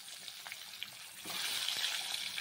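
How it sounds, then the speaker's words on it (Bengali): Eggs frying in hot oil in a wok with a little turmeric, a faint steady sizzle that grows louder and denser partway through, with light crackles. "এবার ডিমগুলোকে ভালো করে ভেজে নেব।"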